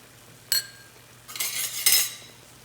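A spoon stirs chopped onions and green masala with chili powder and salt in a pan, making a sharp clink, a pause, then two longer scraping bursts against the metal, close and fairly quiet.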